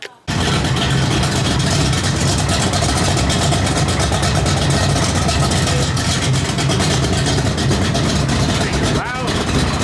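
A 1963 Chevrolet Impala engine runs loud and close with a steady rumbling drone that holds throughout, briefly dipping near the end, with voices faintly mixed in.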